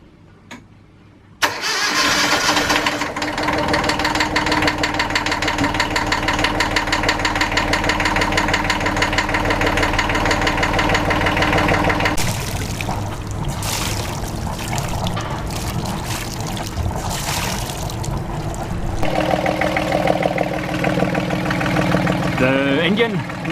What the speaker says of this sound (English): I will then start up the engine.